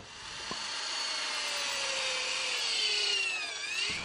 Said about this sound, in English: The holes are drilled about 10 centimetres apart.